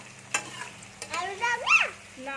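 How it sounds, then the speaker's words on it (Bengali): Okra sprinkled with a little salt fries in a pan while a spatula scrapes and stirs, producing a few sharp close scrapes and squeaky strokes over a faint sizzle. "দিয়ে আমি ভেন্ডিটা ভালো করে ভেজে নিচ্ছি।"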